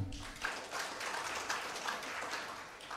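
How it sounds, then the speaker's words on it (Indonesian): Applause from an audience at the launch ceremony of Universitas Putra Bangsa in Kebumen, a steady, moderately faint wash of clapping lasting throughout with no voices. "Tepuk tangan."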